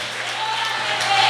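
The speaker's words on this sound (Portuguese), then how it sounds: "Aplaude, vai aplaudindo, vai." A church congregation applauds during a worship service, a steady wash of clapping and crowd noise that swells slightly over its short duration.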